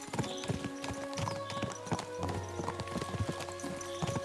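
Horse hooves clip-clop in steady, close rhythm in Kingdom Come Deliverance 2, a medieval video game, over a bed of background music with no voices.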